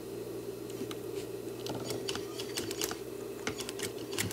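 A sewing machine stitches welt cord with a zipper foot for a throw pillow, giving a steady mechanical whir with a low hum and quick light ticking that stays fairly even throughout.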